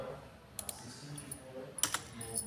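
Quick bursts of typing on a computer keyboard while programming a PIC microcontroller, a few sharp clicks then a denser cluster of keystrokes over low background hum, no speech.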